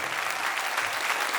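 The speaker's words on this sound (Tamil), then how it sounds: "கைத்தட்டல் கம்மியாக இருக்கு." An audience at a national-level competition event in Chennai's Kamarajar Arangam claps in steady, dense applause lasting a little over a second, fairly close and without talk.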